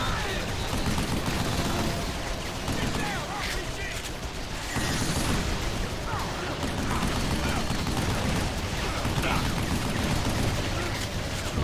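Continuous gunfire and bursts of shooting from the video game Vanquish, a dense loud barrage running the whole time under a voice talking.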